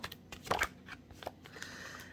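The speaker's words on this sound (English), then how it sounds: "let's get one more shuffle" Quiet, brief riffling of playing cards being shuffled, a short burst of flutter followed by faint soft handling.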